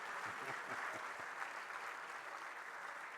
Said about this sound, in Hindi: मैंने तो सुना जोर से ताली मारी है,